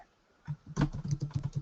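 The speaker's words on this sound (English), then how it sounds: "I think your keyboard sound is reflecting to us." Computer keyboard typing during an online training call: a quiet pause, then a steady run of close, rapid key clicks with an uneven rhythm, heard alone with no talk.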